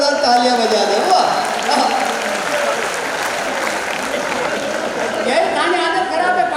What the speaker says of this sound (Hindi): भाई एक बार जोरदार तालियां बजा दे।